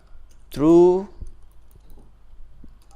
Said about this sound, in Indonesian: Baru kita ketikkan datanya.